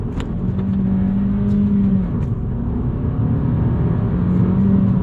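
Suzuki Swift Sport with a 1.4 turbo engine accelerating, a steady, fairly muted engine drone with a rising tone, continuous and close, heard alone without voices.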